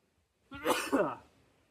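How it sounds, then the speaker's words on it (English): A single short sneeze amid black powder and cayenne pepper smoke from 12 gauge shotgun loads, close and fairly loud, with a quick breathy onset and a brief trailing exhale in otherwise quiet surroundings. "Little sneeze, little tiny bit of irritation"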